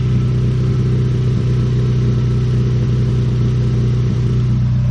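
A 2012 Honda Civic Si engine idles and revs loudly through a straight-pipe downpipe exhaust, a deep, raw, unmuffled rumble, steady and close throughout.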